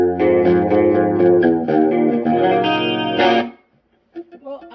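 An electric guitar run through a Small Clone chorus pedal with its bright setting on, aiming for a band's live tone: loud, shimmering strummed chords ringing for several seconds, then a stop followed by a few quiet picked notes.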